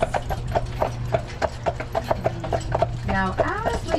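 Hooves of carriage horses clip-clopping at a steady, even trot while pulling a tour carriage uphill through Stanley Park, Vancouver, close and distinct, with a low rumble beneath and a brief creak near the end.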